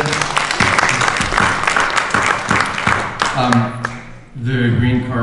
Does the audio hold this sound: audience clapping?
yes